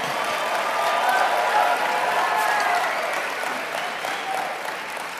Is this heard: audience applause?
yes